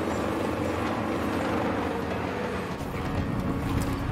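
Helicopter in the video game As Dusk Falls, a steady whirring rotor drone with wind-like noise, fairly loud and continuous throughout.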